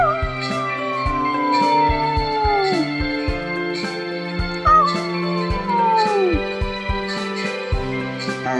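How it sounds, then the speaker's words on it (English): Ash and the wolf Wolfang from the Choices game The Royal Heir howl together in unison, long gliding howls rising and falling over a steady musical backing with soft rhythmic beats. "Ash and Wolfang howl together in unison"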